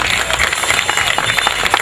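A crowd at a town festival in Hato Nuevo, San Alejo, applauds with loud, dense clapping that continues steadily throughout, close and energetic.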